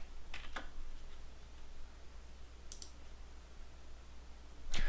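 Quiet keystrokes on a computer keyboard during Civil 3D work, a few scattered clicks over faint room hiss, with a slightly louder tap at the very end.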